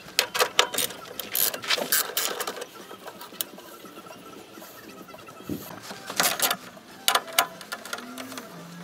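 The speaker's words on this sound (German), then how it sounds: "Die beiden Schrauben sind gelöst" Two screws being loosened to remove a cover plate on a VW T4 van during a vacuum pump replacement, heard as a run of sharp, close mechanical clicks and ratcheting bursts with quiet gaps between.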